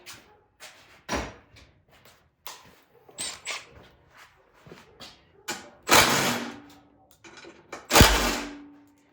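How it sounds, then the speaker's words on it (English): A wrench breaking bolts free on a Craftsman snow blower, with irregular metallic clanks and scrapes, two louder ratcheting bursts standing out near the end. "Kind of break those free with my wrench."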